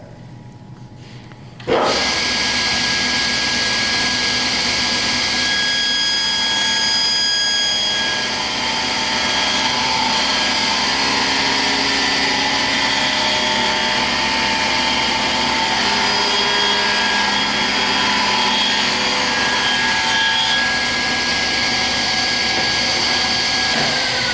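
A table saw with a 1/8-inch-wide blade is switched on and cuts through wood, producing a loud, sustained whirring roar with steady tonal whine that continues for over twenty seconds with no talking.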